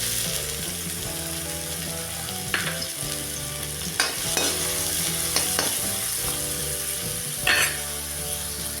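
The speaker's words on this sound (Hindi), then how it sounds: "तेल हमारा गर्म हो चुका है, इसमें डाल दूंगी बारीक कटी हुई प्याज" Finely chopped onions fry in hot refined oil in a kadhai, a steady close sizzle with bursts of stirring and scraping; no talking.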